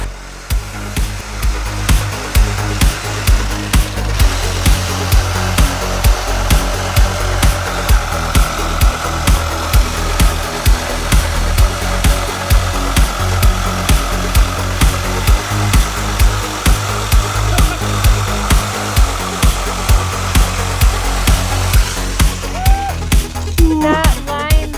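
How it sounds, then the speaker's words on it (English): A jigsaw cuts through wood while building an outdoor cat enclosure, its loud, steady buzzing drone running continuously and close up for nearly the whole stretch before stopping near the end. "I might have to take that jigsaw and just cut across here."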